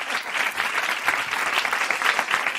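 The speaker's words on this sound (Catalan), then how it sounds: "Un aplaudiment" A live audience applauds steadily at a comedy show, a dense, continuous wash of clapping hands that holds evenly from start to finish, with a faint voice briefly audible beneath it.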